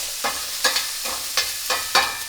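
Pitted green olives and a mixture crisping in a hot pan, stirred with a quick run of rhythmic scraping strokes over a constant close sizzle.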